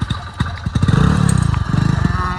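A motorcycle close by starts up and pulls away, its engine rising into a fast, loud chugging putter over about two seconds, with a few thumps at the start.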